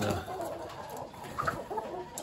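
Chickens in a growing backyard flock, just home from the fair, give soft clucks and short calls at close range over a steady low hum, with a few brighter notes rising near the middle.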